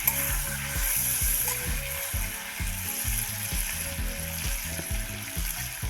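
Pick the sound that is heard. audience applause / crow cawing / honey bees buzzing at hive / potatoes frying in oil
potatoes frying in oil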